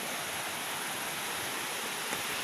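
Constant hiss-like flow of river water, even and unbroken throughout, moderately loud with no voices.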